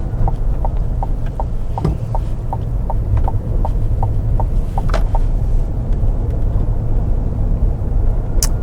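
A 2021 Chevrolet Tahoe rolling over a rough road, heard from inside the cabin as a steady low road rumble with a regular ticking or thumping from the bumps throughout, fairly loud and continuous.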